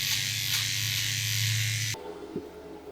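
An electric hair trimmer fitted with a 4mm guard attachment buzzes steadily and fairly loudly while cutting hair, then cuts off abruptly near the end and leaves faint room noise.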